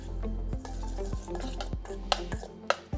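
Beef tartare mixed with olive oil in a bowl, soft wet squishing strokes repeating at a steady pace with a few light clinks near the end.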